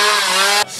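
A neighbour's chainsaw runs steadily with a bright, buzzing whine, then drops abruptly in pitch and level near the end as the engine eases off, loud and sustained with no talk over it.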